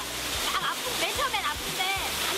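A waterfall pours down steadily in a continuous broadband rush at a summer retreat. A voice talks over it throughout.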